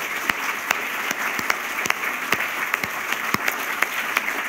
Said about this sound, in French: Applaudissons les finalistes du prix littéraire Trillium en langue française.